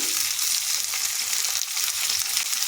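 Green beans and capsicum hit hot oil in a frying pan with ginger, giving a steady, loud, close sizzle of frying with a faint stirring texture and no pauses.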